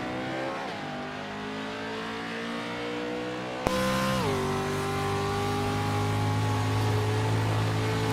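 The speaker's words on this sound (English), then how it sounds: "Edmondson still whipping the burnouts" A pro racing truck roars through burnouts at Sonoma Raceway, its engine revving hard and loud with rising and falling pitch and a sharp jump in intensity midway, heard up close and continuous.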